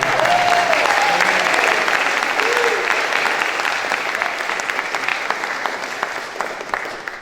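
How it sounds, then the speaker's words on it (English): A concert crowd in Shandrum Churchtown gives a long round of applause for a newly married couple. Loud, continuous clapping with a few whistles or cheers fades slightly over about seven seconds. "I think we should give them a round of applause"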